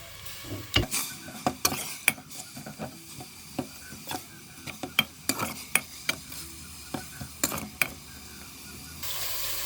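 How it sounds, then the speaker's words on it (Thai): Pork stir-fried in oil in a pot over a gas flame, irregular sharp scraping and clattering strokes of a utensil against the pot over a low sizzle. "แล้วเขาก็จะคั่วหมูเลย นี่เจ้า คั่วแบบบใส่น้ำมันเนาะ"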